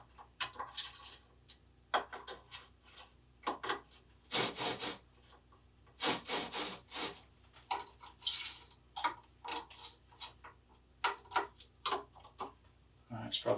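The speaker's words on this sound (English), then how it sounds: "keep moving this thing back and forth to try to take away some material to make these things perfectly concentric with each other, with the bar" Rifle scope rings on a build are lapped with a bar worked back and forth, giving quiet, irregular rubbing and scraping strokes in short bursts with pauses between them.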